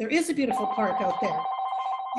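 A telephone rings with a steady electronic tone during an online reading club meeting, heard under a person speaking and then continuing briefly on its own.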